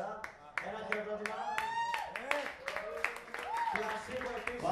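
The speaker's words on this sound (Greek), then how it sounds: "Ένα χειροκρότημα." Audience at a karaoke night clapping for Nikos, the waiter, with sharp irregular claps breaking through loud overlapping voices and a singing or whooping tone.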